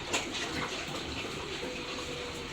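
Water poured out for piglets in a pig pen, a steady splashing gush running continuously at moderate loudness throughout.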